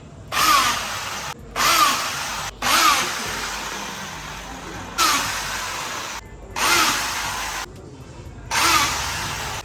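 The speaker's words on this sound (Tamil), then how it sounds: "ஸோ இன்னும் இருக்கிற 13 ஸ்க்ரூவும் ஏற்றிடலாம்" A power drill drives screws into a tyre in six loud, separate whirring bursts, each lasting about a second, with short pauses between them.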